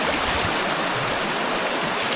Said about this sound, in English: might be a diversion stream, I reckon